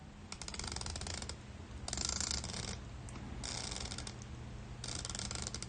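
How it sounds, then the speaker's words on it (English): The 120-click unidirectional bezel with a coin edge on a Boldr Safari Vogelkop watch is turned in several bursts of fine, rapid ratcheting clicks, quiet and close, separated by short pauses. "It does have a 120 click unidirectional bezel with a coin edge on it"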